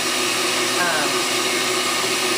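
Electric stand mixer whirring steadily as it churns raw goat milk into butter, a continuous loud motor drone with a brief higher whine partway through.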